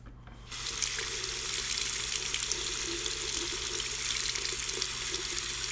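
Tap water runs steadily as lather is rinsed out of a Raw Shaving RS 10 stainless safety razor, the stream starting abruptly after a brief quiet moment and then flowing on loud and close.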